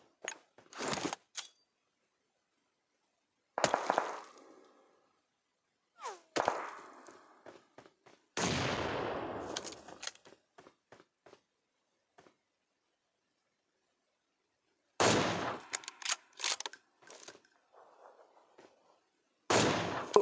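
Gunfire from the mobile battle royale game PUBG Mobile comes in several separate bursts of sharp, loud shots, some rapid and some single, with silent gaps between them.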